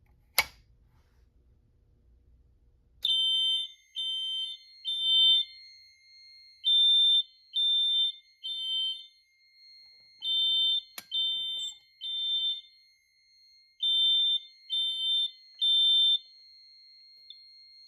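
A Silent Knight 5700 fire alarm panel sounds loud, close, high-pitched beeps in repeating groups of three with short gaps, following a brief soft rustle at the start.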